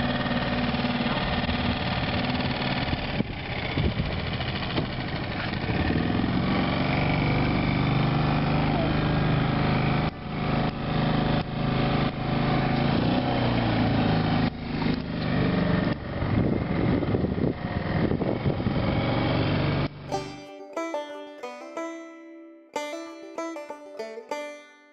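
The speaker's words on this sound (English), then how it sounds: "Outboard's a little noisier, but it is a lot faster and a lot easier than rowing" A small boat outboard motor drones loudly and steadily for about twenty seconds, then cuts out, leaving brief light tapping and knocking sounds.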